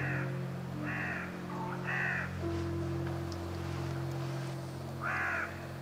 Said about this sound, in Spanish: ¿Lo veis el cuervo? Pedazo de cuervaco, ¿eh?